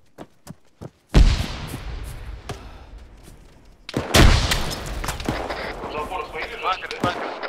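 Sniper gunfire in ARMA 3 during a battle at a tank factory: a few faint, sharp cracks, then two heavy booming shots that echo, with voices talking over the fighting.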